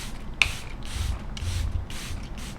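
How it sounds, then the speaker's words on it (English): Several short misty spritzes of Charlotte Tilbury makeup setting spray, close and soft, spaced about half a second apart. "My Charlotte Tilbury setting spray."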